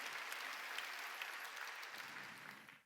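A church congregation claps together during a Sunday worship service, a dense, bright wave of applause that holds steady for a few seconds and then tapers off near the end.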